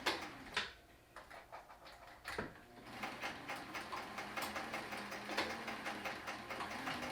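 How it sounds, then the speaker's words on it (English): Domestic sewing machine stitching elastic along the edge of a fabric face mask, a close, steady rapid mechanical ticking that starts after a few brief clunks and runs on continuously. "We'll sew close to the edge of the ribbon, edge of the elastic."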